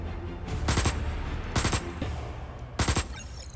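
Bursts of automatic gunfire in the sci-fi survival game Osiris: New Dawn, three loud rapid volleys roughly a second apart over a steady low background hum.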